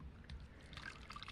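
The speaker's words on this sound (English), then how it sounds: "So we can pour our warm water in." Warm water is poured into a bathtub, producing a soft, close trickle and splash of liquid that lasts a little over a second.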